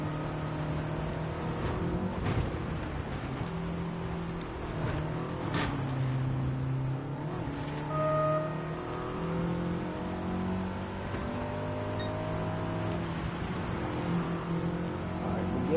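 Race cars roar around a track in Gran Turismo 7 during an online multiplayer race, engines droning steadily with revs rising and falling through turns and cars jostling nearby, with faint voice in the background.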